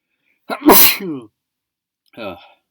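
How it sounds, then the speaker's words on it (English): A loud, close sneeze bursts out, followed moments later by a brief, softer vocal sound. "I feel like I need to sneeze"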